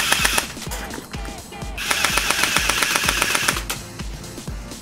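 Rapid bursts from an HB101 micro M16 airsoft BB gun, a fast chattering string of sharp cracks repeating in close succession, loud and near with no talking.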